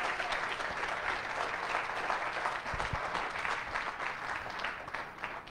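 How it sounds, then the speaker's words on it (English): Sustained applause from an audience at a live guide dog and service dog graduation ceremony, honoring an employee; steady, dense clapping throughout, fairly loud and close, with a few sharper claps standing out. "How about a big round of applause for Lisa?"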